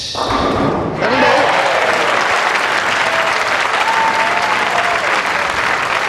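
Crowd inside the Metrodome at the Weber Cup bowling event breaking into loud, sustained applause after a brief quieter moment, dense clapping filling the arena with occasional thuds.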